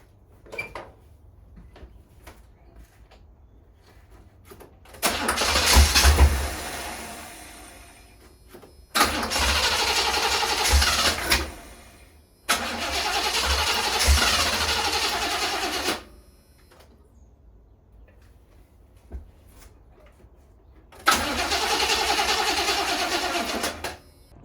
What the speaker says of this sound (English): the car's not even starting